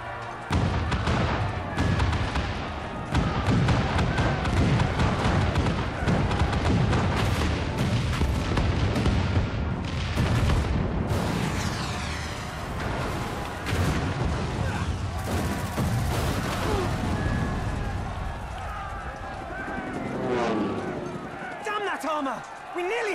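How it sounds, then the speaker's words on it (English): Cannon fire in the Final Fantasy XIV battle for Ala Mhigo, a dense, continuous barrage of booms and blasts layered with loud battle noise and a voiced character shouting throughout. "All cannons! Fire at will! Let no man say we neglected to knock!"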